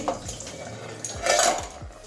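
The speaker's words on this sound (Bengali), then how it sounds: "এবারে ঢাকনাটা খুলে দেখছি" A cooking pot of mung dal with cauliflower stalks has its metal lid lifted off, giving a few close clanks and scrapes with a louder rattle midway through the short moment.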